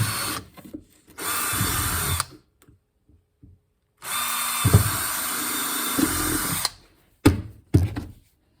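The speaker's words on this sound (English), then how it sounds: "drill a hole above the line and below it" Two long bursts of a power drill whirring at high speed while drilling holes in a trash can, separated by quiet pauses, followed by a few short clunks and thumps.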